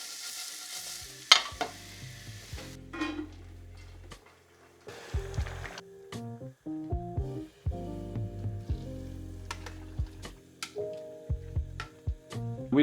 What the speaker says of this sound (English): Just going to sweat some onions off over the top.